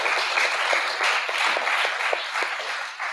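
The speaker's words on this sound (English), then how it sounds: "Y'all clap for Walt" A church congregation at a recovery foundation's anniversary spiritual service claps for a man named Walt, a steady, enthusiastic round of many hands at close range throughout.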